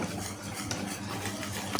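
Spoon stirring powdered milk and sugar together in a bowl, a soft continuous scraping and swishing with light clinks of metal against the dish, close and fairly quiet, with no talk.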